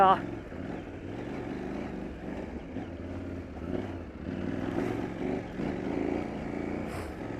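A KTM 790 Adventure R motorcycle ridden hard off-road on an enduro trail, its engine droning steadily with swelling revs while a voice talks over it.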